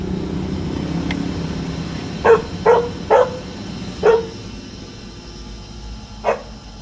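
Several sharp dog barks ring out in a short irregular burst from behind a vehicle, then one more bark after a pause, over a low steady engine hum.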